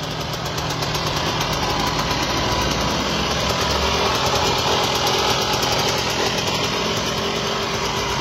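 A two-stroke motorcycle engine idles close by with a steady, buzzing, unbroken drone that holds at an even level throughout.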